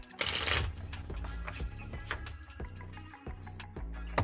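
A deck of cards is shuffled nearby: a loud opening riffle, then steady flicks and taps as cards are cut and slid together.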